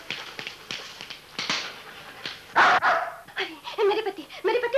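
Dog barking in a 1972 Hindi action film scene, short sharp barks repeating at close range, mixed with tapping sounds and busy background noise.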